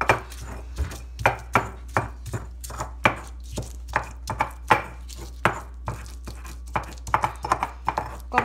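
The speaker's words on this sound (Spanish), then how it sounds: "La cebolla es un poco durita, pero hay poco a poquito vamos a machacarla hasta que quede molidita." Onion pounded in a stone molcajete for salsa: a steady series of dull, thudding knocks of stone on stone and crushed onion, roughly one to two per second, close and fairly loud, with a low hum beneath and no talking.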